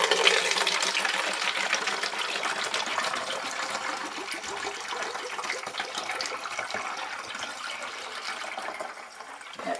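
Vinegar poured through a funnel into a container for mold cleaning, a continuous gurgling trickle of liquid that slowly fades, close with no voices.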